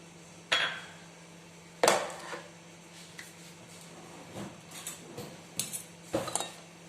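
A utensil clinks against a bowl while mixing oil and cornstarch for a banana dessert with lemon cream, giving several sharp, irregular taps and scrapes, close and alone.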